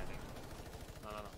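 Rapid gunfire in a Fortnite match, dense automatic shots packed together in a continuous loud burst with no pause.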